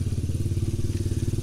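A motorcycle engine chugs close by with a steady, rapid low pulse while riding, loud and unbroken, with no talking over it.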